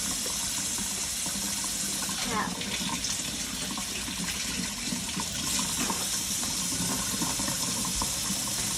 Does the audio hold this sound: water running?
yes